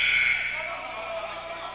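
A scorer's table buzzer sounds at a youth AAU basketball game, a loud steady electronic tone right at the start that fades into gym noise and arena chatter.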